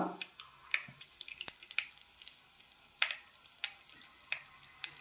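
Mustard seeds, cumin and garlic tempering in hot oil for a tangy South Indian dal, giving a steady light sizzle with scattered sharp crackles and pops close up, no voices.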